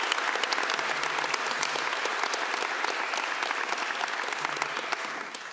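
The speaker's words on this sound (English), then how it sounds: "So big round of applause for them for organizing these events." A conference audience at the EuroPython 2025 closing session claps continuously, a dense, even crowd applause that holds steady and tapers slightly at the end.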